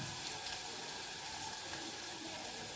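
Water trickles and splashes steadily into a cooking pot during preparation of a papad curry, a faint, even running-water hiss lasting throughout without speech.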